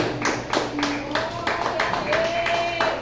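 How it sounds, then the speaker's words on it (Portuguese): A church congregation clapping together during a Portuguese-language worship service, loud rhythmic claps landing roughly every third of a second in unison, with a voice and sustained tones carrying beneath the clapping. "Dê uma linda salva de palmas para Jesus."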